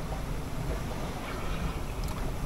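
Strong wind on a sailing boat near Othonoi, a steady roaring rush that buffets the microphone throughout, loud and close, with no speech.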